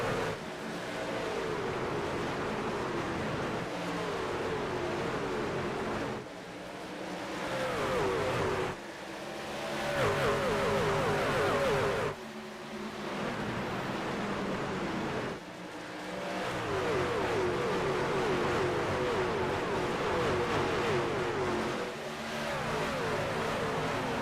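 Race trucks in the AREA Truck Series in iRacing at Rockingham Speedway, North Carolina, a loud continuous engine roar with rising and falling pitch sweeps as the pack laps the oval, no talk.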